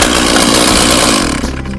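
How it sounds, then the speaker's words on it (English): A chainsaw, locked in place and started with a quick pull of the cord, runs loudly at high revs in a buzzing, rasping drone that eases off slightly at the end. "we lock the chainsaw in place here. With this technique, the saw is locked into place, and we just give it a nice quick pull here"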